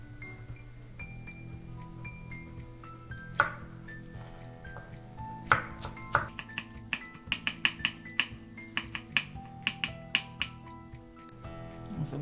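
A knife taps quickly on a cutting board, mincing vegetables for a tofu sauce, with scattered chops early on that speed up into a rapid, crisp rhythm over a faint background hum.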